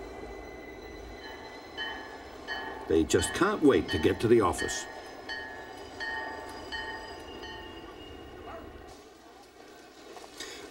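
A commuter train in Toronto rumbles past, rising to a loud rattling burst of wheels and carriages before settling into a lower hum, while someone talks over it.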